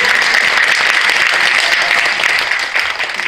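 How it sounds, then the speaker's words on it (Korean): Audience at a church women's ministers' general assembly breaks into sustained, loud clapping from many hands, holding steady before thinning slightly at the end. "박수 한번 주세요."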